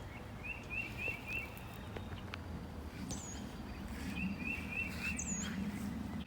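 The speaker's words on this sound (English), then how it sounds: "So many birds, see." Several birds chirp in a garden with an eastern redbud in bloom, quick repeated trills and a few sharp calls sounding faint and distant over a low outdoor hum.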